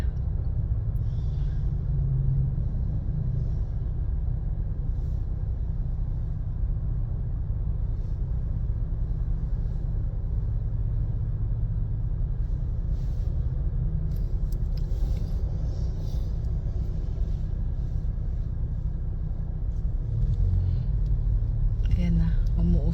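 Cars crawl in slow road traffic in Sevilla, a steady low engine rumble heard from inside a vehicle, with people talking over it throughout.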